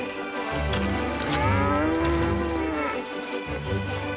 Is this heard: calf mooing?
yes